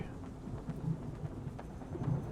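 Lightning-strike thunder from the video game Othercide, a steady rumbling roar with rain-like hiss that swells briefly near the end, heard alone without talk.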